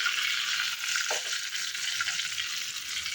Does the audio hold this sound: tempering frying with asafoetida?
yes